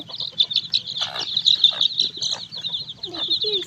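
Native hens and their chicks on a farm: constant high peeping from the chicks overlaps low, soft clucking from the hens, close and busy throughout.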